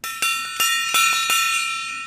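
A hand bell rung on a live tool talk show rings out in several bright clanging strikes with long shimmering sustain, loud and close, with no voices over it.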